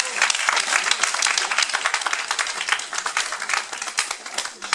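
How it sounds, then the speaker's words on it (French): A theatre audience breaks into dense, steady applause, many hands clapping loud and close throughout with a few voices mixed in. "Veuillez lui préparer une ovation."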